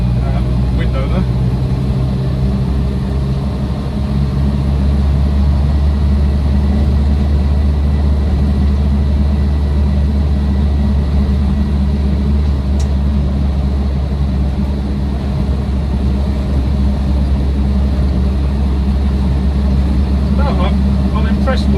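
A 1962 Land Rover Series IIa 88-inch soft top with a 2.25-litre petrol engine drives steadily, its low engine drone and road rumble constant and loud with cabin noise throughout.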